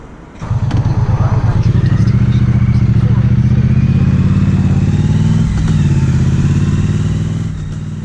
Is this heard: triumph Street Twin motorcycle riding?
yes